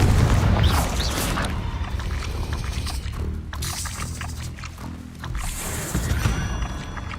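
In Hogwarts Legacy, a Confringo fire spell explodes with a loud, deep boom and a rumbling fiery roar that fades and swells over several seconds amid game effects, with no talking.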